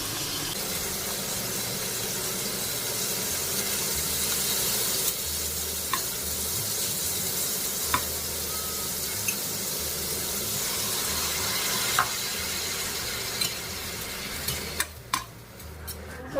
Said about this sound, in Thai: ทำผัดไทยกุ้งนะคะ ทำผัดไทยกุ้ง ทำทีละจานนะคะ